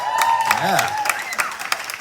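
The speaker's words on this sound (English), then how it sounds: "Damn right you clap for that." Audience at a live comedy show claps and cheers through a steady patter of applause, with a voice and whistle-like tones rising over the crowd noise.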